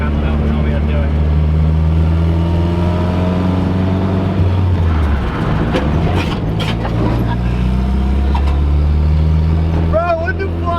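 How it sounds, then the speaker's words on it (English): A lowered car rolls slowly over a speed bump, its engine droning low and steady throughout with a brief scraping, clunking disturbance in the middle; people talk over it. "How to get over a speed bump when you're low as fuck"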